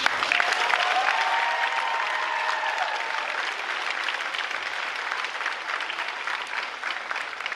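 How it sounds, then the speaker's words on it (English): Audience applause fills a school promotion ceremony honoring students who attended Orchard Park since kindergarten, a steady dense clapping that holds at even loudness throughout without speech. "Give them a round of applause."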